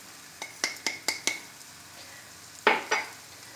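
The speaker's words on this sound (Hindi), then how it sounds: "चीनी को मिक्स करेंगे।" Sugar being stirred into a milk, egg and semolina halwa: a quick run of five spoon clinks against the pot, a pause, then two more.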